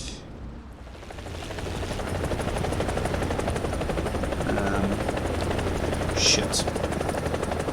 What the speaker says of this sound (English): Okay, let's take the chopper.